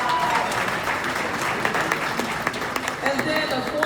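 Steady applause from a crowd at a tennis club's 100th anniversary celebration in Philadelphia, dense clapping that fills the whole stretch, with a voice or two faintly mixed in underneath.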